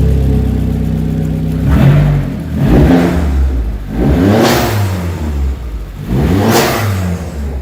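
A Vauxhall Astra VXR engine with a stage 2 intercooler runs loudly up close just after a cold start, rising and falling in a series of revs over a steady idle.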